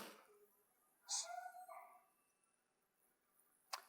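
A dog in a kitchen lets out a short, faint whimpering whine, a couple of thin high-pitched cries that trail off, followed by quiet and a sharp click.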